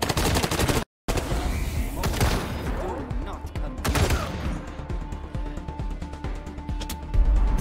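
Gunfire in the video game Wasteland 3, with rapid bursts of shots and sharp impacts over a few seconds, loud and close, overlapping with game effects and a muffled boom.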